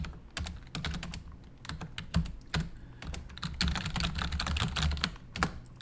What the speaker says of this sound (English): now I can type in between those single quotes